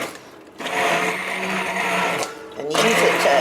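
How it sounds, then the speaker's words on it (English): Stick blender purees simmered chipotle peppers, whirring loudly in two sustained bursts with a brief dip between, close and clear. "I'm going to take my stick blender and puree them"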